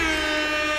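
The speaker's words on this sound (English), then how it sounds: "Air horn." A short, loud air horn sound effect blares from an audio board, one continuous brassy blast with no voices over it.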